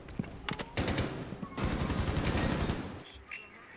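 Rainbow Six Siege gunfire crackles in quick bursts, a short volley followed by a longer sustained stream of rapid shots, moderately loud against game ambience.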